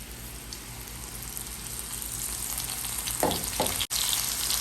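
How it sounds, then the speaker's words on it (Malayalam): Breadcrumb-coated onion rings frying in hot oil, a continuous crackling sizzle that holds steady close by, with a couple of brief louder splutters near the end. "നമ്മുടെ എണ്ണ ചൂടായിട്ടുണ്ട് അപ്പം നമുക്ക് ഇതിനെ ഒന്ന് നല്ലവണ്ണം ബ്രെഡ് ക്രംസിലൊന്ന് മുക്കി നമുക്ക് ഇട്ട് കൊടുക്കാം"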